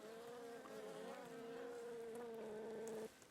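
A steady, close buzzing hum of honeybees flying from a hive in winter, droning continuously for a few seconds before cutting off.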